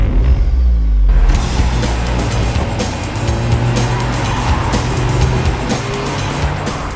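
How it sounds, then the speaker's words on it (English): Audi S1 hatchback with a 2-litre TFSI four-cylinder turbo engine accelerating hard, loud and close, its engine note sustained for several seconds with road and tire noise mixed in. "Wow, this Audi S1 really moves."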